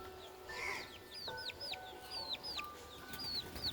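Chickens cluck and call in short, repeated chirping bursts, several birds close by, with soft background noise and no talking.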